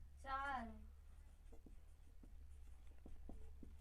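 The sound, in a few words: writing a math solution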